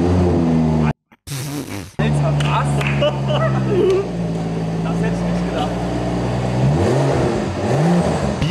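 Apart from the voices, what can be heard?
Rolls-Royce engine started and revved with exhaust flaps open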